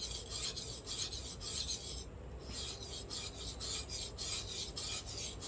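A Japanese kitchen knife being re-profiled on a whetstone gives a steady, close rasping scrape with rhythmic back-and-forth strokes and a brief pause midway, with no voices.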